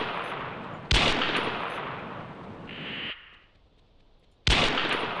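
Gunfire in the Carnivores Triassic video game: a loud, close blast that rings out and decays, then a quieter stretch with a short high tone, then a second sharp shot.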